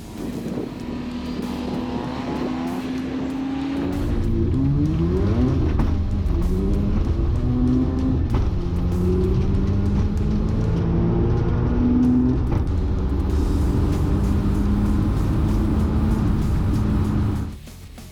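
A mildly ported, turbocharged rotary-engined FC car with a Garrett 3540 turbo, making about 350 wheel horsepower, accelerates hard down a runway at a thrash event, its engine note rising through repeated climbing sweeps, loud and sustained before cutting off.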